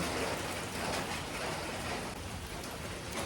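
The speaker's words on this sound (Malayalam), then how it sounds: "നല്ല മഴയാണ് കേട്ടോ അതിൻ്റെ ഭയങ്കര സൗണ്ട് ഉണ്ട് മഴയുടെ" Heavy rain pours down in a dense, steady hiss with no letup, loud and close, with no voices.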